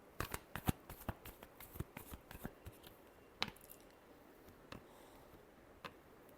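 Tarot cards being shuffled by hand in a quiet room, a run of sharp riffling snaps and soft slaps, dense at first then thinning to a few isolated clicks.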